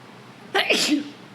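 One loud, abrupt sneeze close to the microphone, a sharp burst that trails off quickly into quiet.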